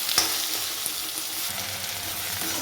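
Two medium potatoes fry and sizzle steadily in a pan for a spiced capsicum dish, a constant crackling hiss with a few faint utensil taps. No talking.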